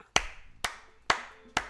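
Hands clap four times in a steady, evenly spaced rhythm on a podcast set up on a dock, each clap sharp, close and fairly loud with short decays between them.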